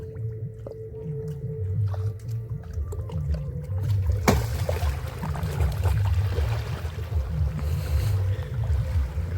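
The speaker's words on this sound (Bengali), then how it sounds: "আমাদের নরম মাটির উপর থেকে আমাদের নৌকা নামানো হচ্ছে" A low, rumbling scrape and creak of a wooden boat hull sliding off soft mud into a Sundarbans creek, followed by water sloshing, with a sharp knock partway through.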